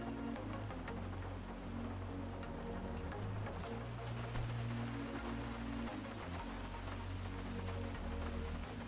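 Rain falls steadily in a video game, a soft continuous patter of drops over a low hum that stays quiet and unbroken throughout.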